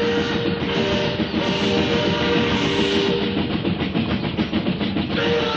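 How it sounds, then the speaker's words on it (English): Train roaring out of a tunnel as a sound effect: a loud, continuous rumbling roar with rhythmic clattering of wheels and steady tonal hums, staying close and powerful throughout. "a train roared out of the tunnel"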